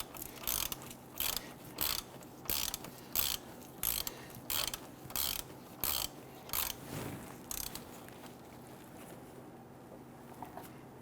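A socket ratchet loosens the transmission pan drain plug on a 1999-2004 Jeep Grand Cherokee 4.7L V8, giving a run of rapid clicking pawl bursts in a steady rhythm, close and fairly crisp, before a quieter pause at the end.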